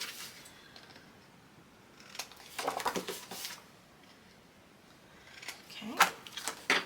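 Quiet ribbon scissors snip ribbon in short bursts, a few quick mitering cuts in a row, then a pause, then more crisp snips close by.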